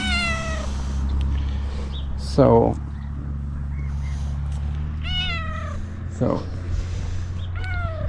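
A cat meows several times nearby, rising and falling cries spaced a few seconds apart, over a steady low background rumble.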